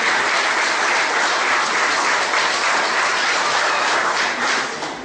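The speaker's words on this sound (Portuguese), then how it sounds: "aplauda o nome do Senhor Jesus" A church congregation applauds steadily and loudly throughout, a dense wash of many hands clapping at once with no break, fading only slightly at the very end.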